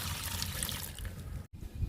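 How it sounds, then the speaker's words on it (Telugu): Water trickles and splashes steadily up close onto a potted spider lily, briefly cutting out for a moment near the end before resuming. "స్పైడర్ లిల్లీకి వాటర్ ఇస్తున్నాను"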